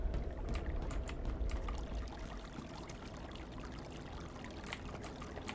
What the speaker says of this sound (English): they have the sound effect and, like, a water supply just leaking